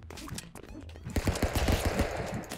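Rapid bursts of gunfire in the stick-figure brawler game Stick Fight, starting sparse and turning into a dense, loud run of repeated shots in the second half.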